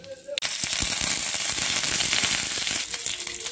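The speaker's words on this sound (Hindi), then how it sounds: "सोरिषटा भल भाव फुटीगला" Hot oil crackles and sizzles steadily as mustard seeds splutter, with rapid sharp pops scattered throughout, close and fairly loud after a brief quiet start.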